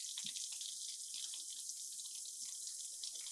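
Tap water running steadily into a sink to cool a burn, a constant hissing stream heard nearby and fairly quiet, with no one talking.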